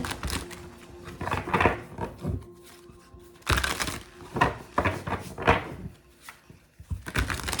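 Tarot cards are shuffled in repeated bursts of riffling and flicking, close and fairly loud, with short pauses between rounds.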